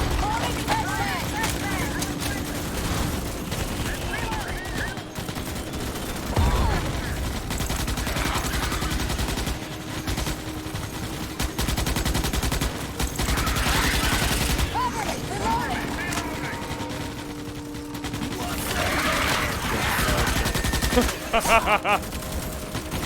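Sustained bursts of automatic gunfire fill a roleplay-server video game firefight, loud and dense, with people shouting over the shots throughout.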